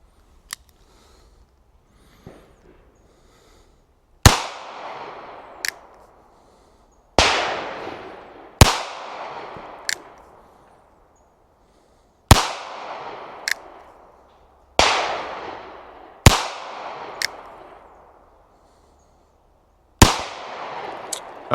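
Five or six sharp reports from an NAA mini revolver fired at a paper target, spaced irregularly a few seconds apart, each a loud crack with a ringing decay, with faint small clicks between shots.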